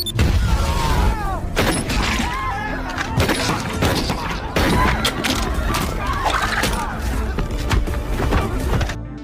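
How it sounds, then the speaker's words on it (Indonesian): Film bomb blast set off by a character, with booming thuds and crackling debris in a dense, loud burst of impacts, followed by a chaotic rumbling aftermath. "Adam langsung meledakkan bom yang ia pasang"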